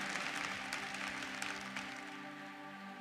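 A congregation claps at a Sunday church service, a steady, moderately loud patter of many hands over a few seconds with a faint sustained tone beneath.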